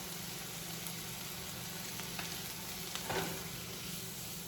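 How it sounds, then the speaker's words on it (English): Vegetables sauté quietly in a pan, a soft, even sizzle with a brief spatula scrape and stir near the end, no voices. "Saute it for about another minute or so."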